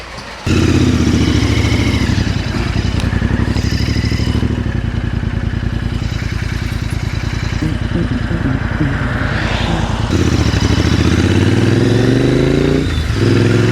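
A motorcycle rides on the road at a Distinguished Gentleman's Ride in Lancashire, its engine a loud, continuous close rumble with shifting pitch as it accelerates and changes gear, with wind noise throughout.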